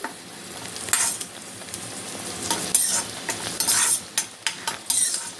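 Onions fry in a pan as they brown, giving a steady sizzle broken by repeated scraping and clinking stirs of a utensil against the pan, close and fairly loud.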